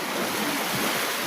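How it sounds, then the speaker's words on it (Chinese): Ocean surf rolling in at a beach, a steady broadband wash of breaking waves that stays loud and continuous throughout with no clear gaps. "听到海浪的声音了吗？"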